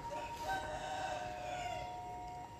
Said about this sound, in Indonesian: kita bahas setelah kereta api Penataran ini lewat di sini ya, atau merapat stasiun Mojokerto